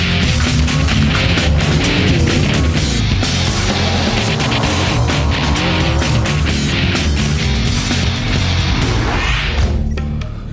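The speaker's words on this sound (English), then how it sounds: "EcoBoost engine 44 8AA roars into La Paz and across the finish line." A Ford EcoBoost race truck engine, number 44 8AA, roars loudly into La Paz during the Baja 1000 desert race, a dense, continuous mechanical roar with rattling impacts that trails off only at the very end.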